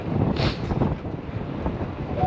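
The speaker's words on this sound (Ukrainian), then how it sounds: "Вітряно, звісно, як завжди весною." Steady spring wind blowing hard across the microphone, a continuous low rumbling buffet with no voices.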